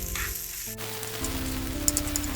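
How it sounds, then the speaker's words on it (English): Quarter of a large onion sautéing with cashews in a hot spice tempering for vegan curd rice, giving a steady close sizzle with a few light stirring scrapes throughout. "And now we will saute them until the onions become translucent"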